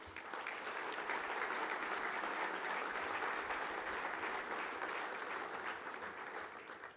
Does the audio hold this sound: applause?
yes